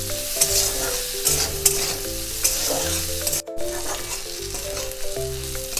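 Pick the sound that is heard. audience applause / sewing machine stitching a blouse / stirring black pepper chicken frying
stirring black pepper chicken frying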